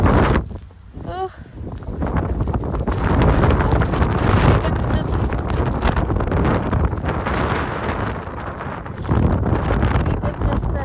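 Strong wind during a snowstorm in Kristiansand, Norway, gusting and buffeting hard against the microphone in a loud continuous roar, with a person talking over it in places.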